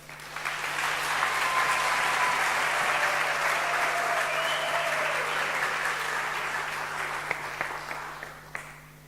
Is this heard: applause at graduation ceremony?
yes